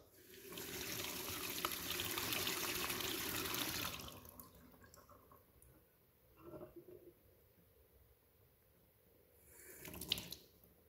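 A sink tap runs hard while tomato seeds are rinsed, making a loud, close, steady rush of water for about four seconds, followed by quieter splashing and brief bursts of running water.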